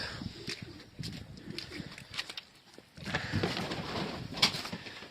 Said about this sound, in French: Les pigeons.